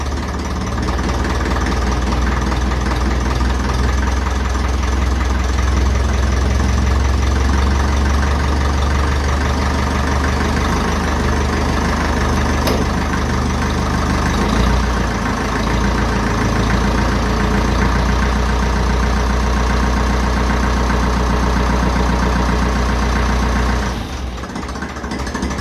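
A 1954 Ferguson 20 TEF diesel tractor engine revs steadily and loudly for the whole stretch, a rough low rumble with knocking texture, dropping off abruptly near the end.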